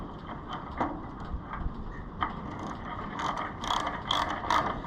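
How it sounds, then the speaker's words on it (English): A wrench works loose a brass fitting on an Allis-Chalmers 200 tractor, giving off a run of close ratcheting clicks and scraping metal twists that grow busier and louder toward the end. "Now this is brass, so you want to really wrench down on it and twist it off"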